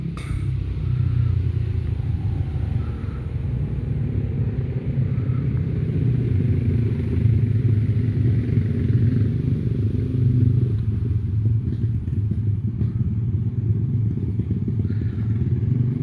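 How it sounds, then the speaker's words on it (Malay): A motorcycle engine rumbles steadily nearby for the whole stretch, a continuous low drone with no voices over it, recorded outdoors during a house cleansing ritual. "tu motor bukan kelibat"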